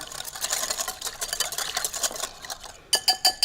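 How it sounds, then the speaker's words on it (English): A dressing of pepper and minced garlic whisked in a bowl, fast rhythmic metallic clicks and swishes in a rapid steady beat, close and fairly quiet, ending with a few louder taps. "Just whisk it all together."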